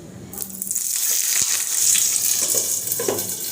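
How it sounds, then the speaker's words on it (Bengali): Fish paturi, parcels of small mourala and pakal fish, dropped into hot oil and frying with a loud, steady hiss and crackle after a brief soft start, no voices. "এদিকে তেলটা গরম হয়ে গেছে সাবধানে এখন পাতুরিটা দিয়ে দেবো"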